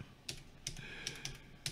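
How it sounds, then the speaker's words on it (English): Quick clicks of a computer keyboard as a web address is typed: scattered, irregular keystrokes, fairly close and quiet, with no talking. "hit enter and see where it takes us"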